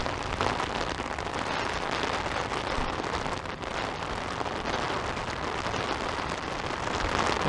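Steady rain patters densely on surfaces nearby around Islington in Etobicoke, Toronto, in November, a continuous hiss with scattered drops and no speech.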